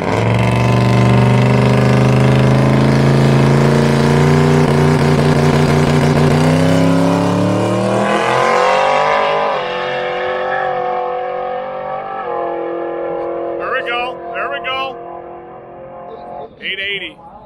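A Buick drag race car makes a pass at the track, its engine climbing loudly through several gears, then fading off into the distance while a few voices come in near the end.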